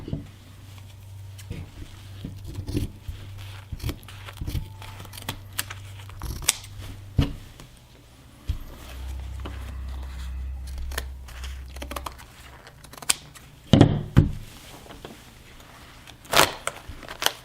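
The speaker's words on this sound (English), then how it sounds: "What we want to do is cut the edges off this mask." Scissors cut away the edges of a 3D-printed face mask in a series of short, close snips and crunches. The cuts come in irregular bursts with brief pauses between them, and no one speaks.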